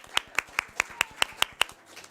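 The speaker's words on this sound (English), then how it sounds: "Oh, a little clapping." A small audience at a public talk on women's role in nonviolent movements gives light, crisp clapping, about eight evenly spaced claps in a steady rhythm that then stops.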